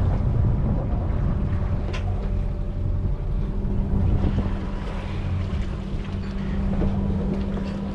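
A sailboat moving at about five knots off Gibraltar, carrying a steady low rush of water and wind across the hull, with a constant low drone running through the whole stretch and no talking.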